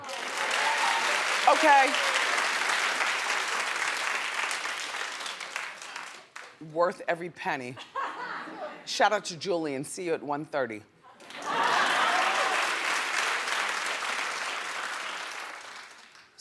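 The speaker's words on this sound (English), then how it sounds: "Clap if you know what I'm saying." A talk-show studio audience bursts into loud, dense applause, which stops as someone talks, then a second sustained round of clapping swells back up near and full.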